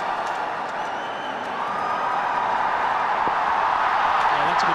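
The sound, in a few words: crowd cheering at cricket match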